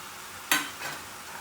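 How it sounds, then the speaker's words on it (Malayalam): Chicken stirred with roasted spice powders in a pan: one sharp scrape near the start, then a softer scrape, over a faint steady background with no talking. "ഇനി നന്നായിട്ട് ഒന്ന് മിക്സ് ചെയ്യാം"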